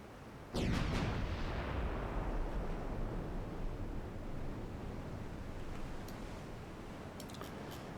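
A single heavy boom of 12-inch naval guns in a warship game, loud and close, followed by a long rumbling roll that fades slowly, with faint crackles near the end.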